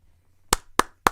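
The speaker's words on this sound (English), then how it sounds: "Little clap there." Three crisp hand claps, sharp and evenly spaced, close to the microphone in a quiet room.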